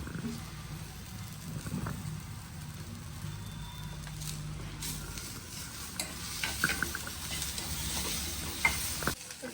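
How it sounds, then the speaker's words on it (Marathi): Garlic and chopped onion fry in hot oil until browned, a continuous low sizzle and hiss with occasional stirring scrapes, louder bursts near the end. "कांदा मस्त असा लाल भाजून झालाय"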